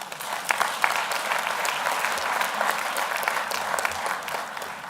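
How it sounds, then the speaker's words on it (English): Audience applause fills a university graduation ceremony hall, a steady sustained clapping from a large crowd throughout. "Please let us clap for them."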